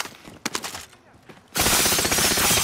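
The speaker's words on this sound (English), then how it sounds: "Sending a flashbang" A flashbang grenade bursts in a video game, a sudden loud blast giving way to a sustained harsh ringing wash after a few faint, scattered sounds.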